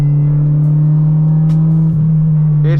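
Honda Integra with a VTEC engine and loud exhaust, idling as a steady, deep droning hum that holds loud and unbroken throughout, with a faint voice near the end.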